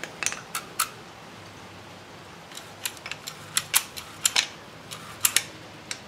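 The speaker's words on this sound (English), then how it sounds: "we're ready to take our screwdriver out of here and let it wind back up." A recoil starter on a Powermore engine lets its pull cord wind back in, giving a scattered run of sharp, faint clicks and ticks over a quiet background, with no talking.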